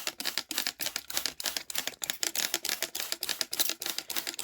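Spray bottle misting water over cold-stratified seeds, a rapid series of short, crisp hissing spritzes in steady rhythm, close and fairly quiet.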